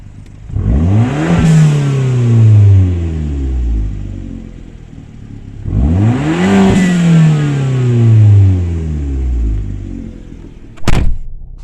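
A car engine revs twice, each time in a rising and falling sweep with a blow-off valve hissing as it lets go. It is loud and close, and a sharp click comes at the end.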